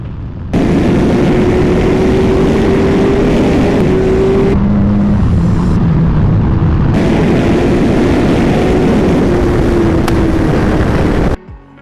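A 2023 BMW S1000 RR engine roars loud and close as it revs through the gears, its pitch climbing and then dropping abruptly at the shifts as the gearbox skips fourth, before the engine cuts off.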